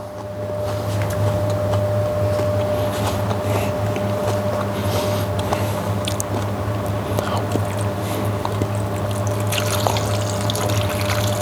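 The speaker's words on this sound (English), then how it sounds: "put in enough pickle liquid just to cover" Pickle liquid is poured over washed and drained vegetables for umezushi pickles, a steady, close trickling and splashing that runs unbroken for about eleven seconds over a constant low hum, with no talking.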